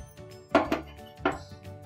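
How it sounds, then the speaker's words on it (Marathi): Washed amla being placed into a pressure cooker, heard as a few sharp metallic clinks and knocks, two close together and then one more, in a quiet kitchen. "आता हे कुकर मध्ये वाफवायला ठेवते."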